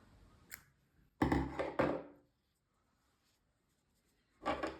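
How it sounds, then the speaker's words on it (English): Scissors snipping through crochet yarn: a small click, then a few quick rasping cuts close by, followed by quiet and another short snip at the end. "Cut the yarn,"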